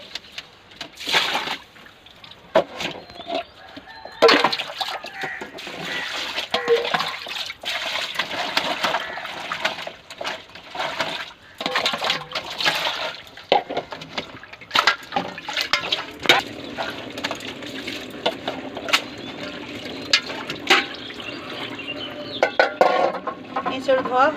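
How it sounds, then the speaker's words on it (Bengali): Cut raw jackfruit pieces being washed in a vessel of water, with irregular splashing, sloshing and clinking against the pot, close and fairly loud throughout. "এবার এঁচড় ধুয়ে নেব।"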